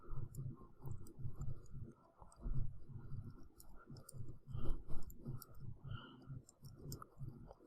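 Computer keyboard typing clicks along in quick, irregular bursts while someone writes React code, with faint key taps sitting over a steady low room rumble.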